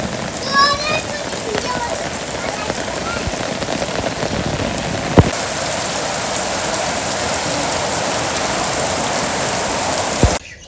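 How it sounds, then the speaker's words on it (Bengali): Steady rain pours on surfaces in a Bangladeshi village during the evening rainy season, a dense, even hiss throughout, with a couple of sharp knocks. "এত সময় তো ভালো বৃষ্টি হইলো"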